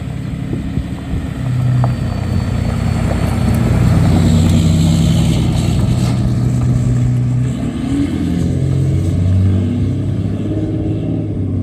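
A car towing a lifted golf cart on a car trailer cruises along the road, a steady low engine and road rumble with wind noise, continuous and moderately loud inside the cabin.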